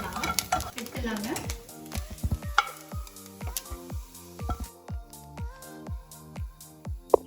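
Coconut being stirred as it roasts in oil in a pan, with repeated scraping strokes and a low sizzle throughout, some clinks of the utensil against the pan.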